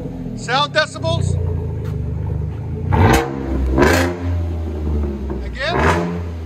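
A Chevy Silverado with a 4.3L V6 and Dynamax race bullet exhaust revs in repeated loud bursts with a deep rumble, while excited people whoop and talk over it nearby.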